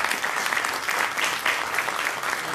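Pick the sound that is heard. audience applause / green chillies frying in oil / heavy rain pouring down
audience applause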